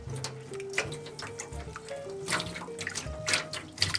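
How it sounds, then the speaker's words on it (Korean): Rice is washed in a bowl of water with close, gentle sloshing and swishing, light drips and small splashes in a steady rhythm, with no talking. "오늘은 밥하기 전에 쌀 씻는 것을 보여드리려 해요"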